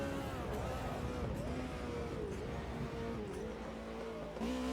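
BMW touring car driven in a sim racing video game, its engine droning loudly and steadily with pitch rising and falling through gear changes and corners, a constant close mechanical roar without talk.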